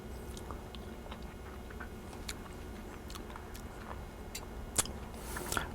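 Chocolate mascarpone pie mixture tasted from a spoon, faint soft mouth and chewing sounds close up, with a small clink near the end and no talking.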